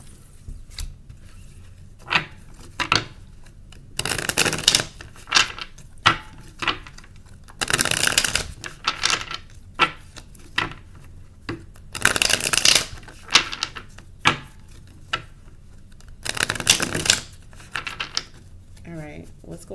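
Tarot cards are shuffled in loud, crisp riffling bursts that repeat every few seconds, with softer taps and card handling between them, close to the listener.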